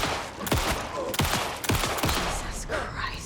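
Repeated gunshots in Alan Wake 2 as a player fires several rounds into a tough enemy, sharp cracks spaced roughly half a second apart over a constant background, with a voice speaking briefly.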